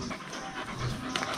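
A St. Bernard puppy, about 75 to 80 days old, pants steadily and close up in quick, continuous breaths over a busy background with no talking.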